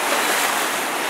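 Baltic Sea waves at the tip of the Hel Peninsula, Poland, make a brief, steady hiss of surf and wind with no distinct breaks.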